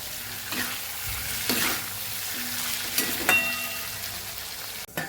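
Okra is stir-fried with salt, giving a steady close sizzle. Several louder stirring scrapes break in along the way, and there is no talking.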